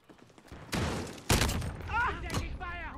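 Gunfire in Call of Duty Modern Warfare, including a shotgun blast: a couple of loud, close, sharp booming shots in quick succession, followed by voices talking.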